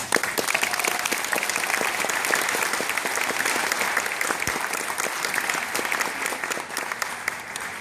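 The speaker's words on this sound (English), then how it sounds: "So round of applause." Graduation audience at the Academy of the Redwoods class of 2014 ceremony gives sustained, dense applause from many hands, steady and even throughout, filling the hall without talk.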